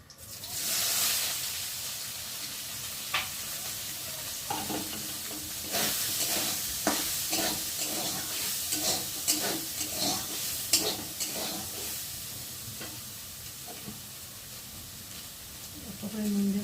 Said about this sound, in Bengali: এখন তেলের মধ্যে আমি সয়াবিনটাকে ভেজে নেব।